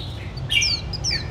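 Rare birds in a collection chirp in short, bright, whistled calls, two or three quick notes close by over a low background hum.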